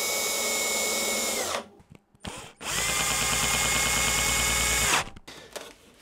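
A power drill drives pan-head bolts to fix legs onto a table, two long loud whirring runs broken by short pauses, with faint clicks between and a final brief burst.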